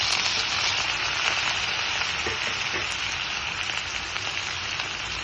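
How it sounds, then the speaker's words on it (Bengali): Steady, dense sizzling of chopped chilli, potato and peanuts frying in a pan, close and continuous, with a faint scrape or two of stirring. "এর মধ্যে আমি ওই কুচি করা লঙ্কা, আলু আর বাদামটি দিয়ে ভেজে নিই"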